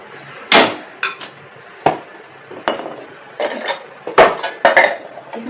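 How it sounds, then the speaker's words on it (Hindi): Pressure cooker being picked up and set down on a gas stove in a home kitchen, giving a series of sharp metallic clanks and knocks, some close and loud, with short pauses between them and no talking. "ये हमने कुकर ले लिया"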